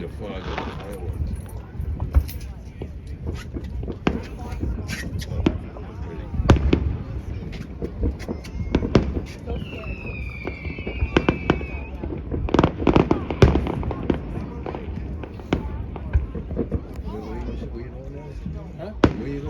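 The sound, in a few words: fireworks exploding over a marina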